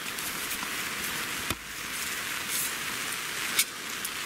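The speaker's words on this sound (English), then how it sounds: "listening to the sound of the rain" Steady rain patters on a taut tarp overhead at a Cork Lake campsite, constant and close, with a couple of sharper drops or knocks standing out.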